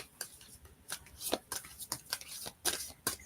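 A deck of cards is shuffled nearby in a quick series of crisp riffling bursts and taps, fairly quiet and uneven in rhythm, with no voices.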